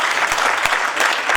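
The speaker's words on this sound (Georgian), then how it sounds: "ხოხარ აპლოდისმენტები ბესო ჩუბინიძეს" Warm applause from a studio audience at an 80th-birthday jubilee tribute show, honoring Beso Chubinidze: dense, even clapping from a full crowd, loud and sustained throughout, with no voices over it.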